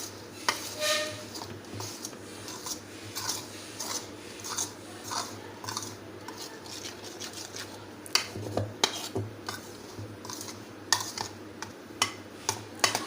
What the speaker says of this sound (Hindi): ये स्पून से इसको मिक्स कर लूँगी